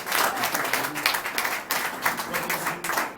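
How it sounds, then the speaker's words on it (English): A church audience claps for the drama department, giving dense, steady applause of many hands throughout, with no voices standing out. "Please give a hand of applause for our drama department."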